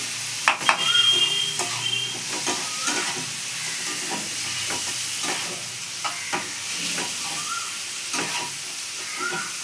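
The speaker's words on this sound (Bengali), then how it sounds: "এবার দেখো পেঁয়াজটা দিয়ে দিলাম।" Onion sizzles and fries steadily in a pan, with scattered stirring clicks and scrapes over the hiss, close up and moderately loud with no talk.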